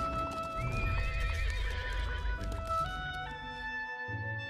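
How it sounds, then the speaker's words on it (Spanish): A horse ridden by a Roman centurion near the village of Capernaum whinnies loudly while hooves clip-clop at a steady gallop, set against sustained musical tones throughout. "un centurión se apresuró a montar a caballo"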